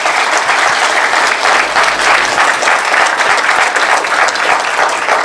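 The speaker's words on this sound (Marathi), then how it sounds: "आपण एकदा जोरदार टाळ्या वाजवाव्या" Loud, sustained applause from an audience at a felicitation ceremony, dense steady clapping filling the whole stretch close up.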